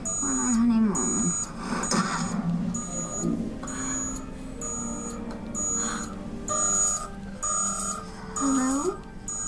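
An alarm clock rings in repeated high, electronic beeping bursts at a regular pulse, loud and close, while people talk over it.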